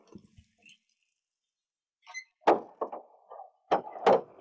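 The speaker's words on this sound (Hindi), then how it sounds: "मैं दरवाजा बंद कर दी। हाँ हाँ ले कर दरवाजा बंद।" A door being closed indoors: after near silence come a few quiet clunks and rattles, then a firmer pair of thuds as it shuts, with no talk.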